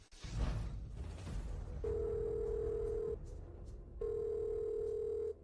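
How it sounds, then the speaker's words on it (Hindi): A phone ringback tone sounds in two long steady pulses separated by a pause, fairly quiet over faint room noise, with no one picking up. "वह फोन क्यों नहीं उठा रही?"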